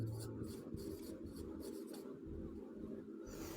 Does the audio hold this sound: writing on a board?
yes